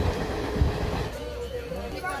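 A passenger train jolting on its rails on a Punjab to Uttar Pradesh journey, heard from inside as a continuous low rumble with a heavier thump early on.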